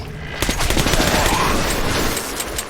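Loud rapid gunfire from the Metro 2033 Redux video game, a dense continuous fusillade of close shots rattling through the whole moment with no pause.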